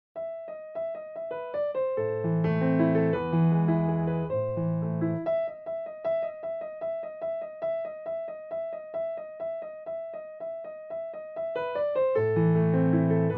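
Piano played at a moderate pace, a repeated melody over chords with a few clashing, uneven notes; solo, no voices.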